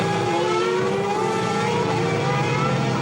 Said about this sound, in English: A couple of cars going past the Alain machine